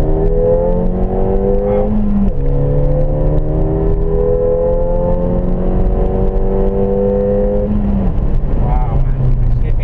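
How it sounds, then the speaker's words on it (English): A car engine revs up through rising gear pitches, shifting a few times as it accelerates steadily, heard close and loud from inside the vehicle. "Just to give you a little bit of an acceleration."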